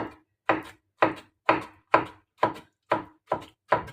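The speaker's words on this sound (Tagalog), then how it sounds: "hiwain natin ito guys na" Knife chopping through grilled peeled eggplant on a cutting board, nine sharp evenly spaced cuts about half a second apart, close and clear with no other sounds.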